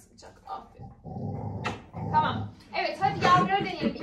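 Puppies in a new cage growl and whimper in short bursts, with people talking close by over and between the sounds.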